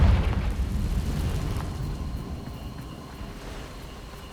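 The Confringo spell explodes in Hogwarts Legacy, a deep booming blast at the start that rolls into a long rumbling, hissing decay and fades slowly over several seconds.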